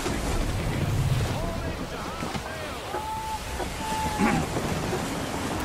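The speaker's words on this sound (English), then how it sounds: "Wind looks to be shifting. Stay alert, Connor. Gusty winds can be difficult to manage." Gusty wind and ocean surf rush steadily around a sailing ship in the Assassin's Creed III game, with rising swells of wind noise, plus a few tonal creaks and whistles over the sea.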